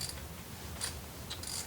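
A ratchet wrench loosens a 17 mm bolt on a Procharger supercharger fitted to a 2015+ S550 Ford Mustang, giving a few short, quiet bursts of clicking close by.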